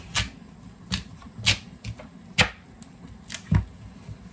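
A knife cuts down through an ingredient on a cutting board with about eight crisp, separate chops at an uneven pace, close and clear against a quiet room, with no talk.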